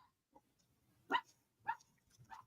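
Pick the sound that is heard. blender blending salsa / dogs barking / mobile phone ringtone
dogs barking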